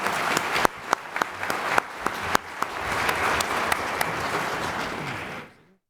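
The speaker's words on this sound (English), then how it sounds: "You may applaud." Audience members at a casino forum break into applause, a brisk wash of many hands clapping with a few sharp louder claps standing out, before it stops abruptly near the end.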